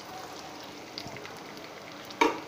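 Egg poured onto chopped onions frying in a pan, a faint steady sizzle with small crackles and one brief louder spatter near the end, no talk.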